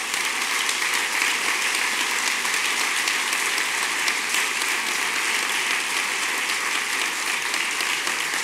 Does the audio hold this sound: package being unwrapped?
no